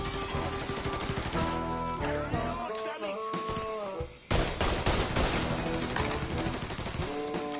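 Rapid bursts of gunfire and heavy weapon volleys from the Mafia III video game, dense and loud throughout with a brief lull midway, mixed with game music and voices.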